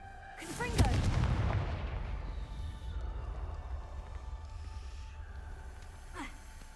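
In the Hogwarts Legacy video game, a Confringo blasting spell goes off with one sharp, booming explosion, followed by a long rumbling tail that slowly fades under faint ambient noise.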